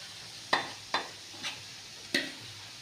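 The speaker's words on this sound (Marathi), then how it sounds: "गूळ आणि चणा डाळ ही आपण आता व्यवस्थित मिक्स करून घेऊया." Jaggery and chana dal stirred together in a pot, giving four sharp scraping clinks of a spoon against the metal at irregular intervals, close but fairly quiet, with no speech.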